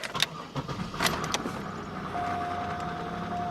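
A car engine cranks with a few sharp bursts, then catches and settles into a steady, close idle with a faint whine.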